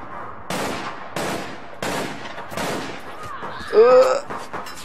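Gunfire in the online shooter APB Reloaded: four sharp, loud bursts about a second apart, each with a quick decaying tail, followed by a louder shot that rings with a brief high-pitched whine.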